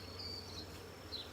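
A faint, steady honey bee buzz hums close by at a hive, with a higher whine of wings drifting in and out.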